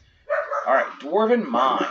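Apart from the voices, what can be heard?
dog barking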